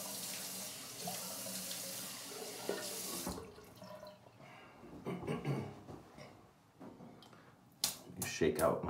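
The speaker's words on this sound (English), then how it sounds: "Fill my scuttle with some hot water." A tap runs hot water into a shaving scuttle, a loud steady rush at first, then stopping and giving way to quieter sloshing and clinks of water in the bowl.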